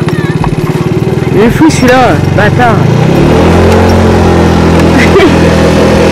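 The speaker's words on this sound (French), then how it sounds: "C'est la moto qu'elle aime pas." A motorcycle rides past on a street, its engine drone loud and rising then steady beneath a woman's chatter, with other voices also speaking.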